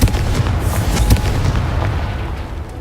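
Confringo fire spell explosion in the Hogwarts Legacy video game, a loud booming blast with a sharp peak about a second in, followed by sustained rumbling crackle that slowly fades, with no talking.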